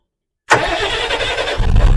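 An LNG truck's engine cranks and fires after a moment of silence, settling into a loud, steady idle close by, with a deeper low rumble building toward the end; no talk.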